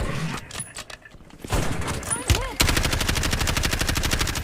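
Gunfire in an online shooter game, with a few sharp isolated shots early on, then a loud rapid automatic burst that repeats steadily to the end, close and dominant.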